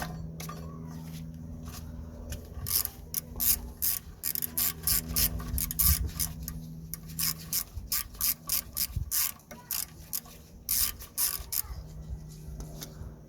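Rear brake disc being worked off a Vauxhall Opel Astra, a series of quiet scraping, rasping and metallic knocking bursts in an irregular rhythm, close but faint.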